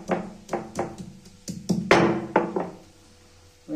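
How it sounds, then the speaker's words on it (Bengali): Whole garlic cloves being crushed, probably with a stone pestle, a series of about eight sharp, close thuds at an uneven pounding rhythm, alone with no voices. "এবার আমি গোটা রসুন গুঁড়ো থেতে করে নেবো সিগের মধ্যে,"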